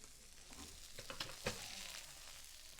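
Salmon searing in a hot pan, a soft continuous sizzle with a few brief crackles and pops near the middle, quiet and close with no talking.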